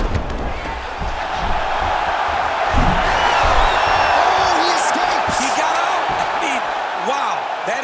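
A steady, loud arena crowd roar swells and holds for the whole stretch as the virtual audience cheers during a UFC 5 video game fight night bout.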